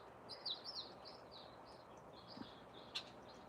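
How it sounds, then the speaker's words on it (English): Small songbirds, finches and orioles, call outdoors in a quiet setting, a run of short, thin chirps and whistled notes repeating over a few seconds with one sharper call near the end. "finches and orioles."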